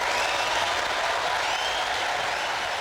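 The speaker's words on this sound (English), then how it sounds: "please give a huge round of applause to Naomi Panarella" A sustained, even round of applause from an audience at a workplace accessibility talk, honoring Naomi Panarella, dense and continuous throughout with no speech over it.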